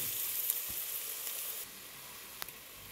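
Onion sautéing in a pan with cinnamon sticks, cloves and a couple of cardamom pods gives a steady, close sizzle that holds through, with a faint stir or two and no talking.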